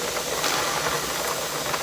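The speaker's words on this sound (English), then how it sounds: "it's not quite steaming enough yet" Steady, loud broadband hiss of steam escaping from a pressure canner while potatoes are being canned, continuous and close with no talking.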